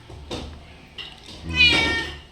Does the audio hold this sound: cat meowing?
yes